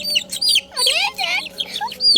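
Chickens cluck and squawk close by in short, irregular bursts, with a few brief pauses between calls.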